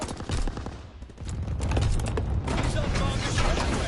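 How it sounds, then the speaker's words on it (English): Anti-aircraft gunfire in a video game: rapid repeated shots in a dense fusillade, loud and continuous, with a voice speaking over the barrage. "Anti-aircraft burst has commenced. Targeting enemy aircraft."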